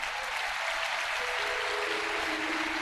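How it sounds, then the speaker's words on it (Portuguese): A large church congregation claps steadily and loudly throughout, dense applause filling the room without pause. "Se você crê nisso, aplauda o nome do Senhor."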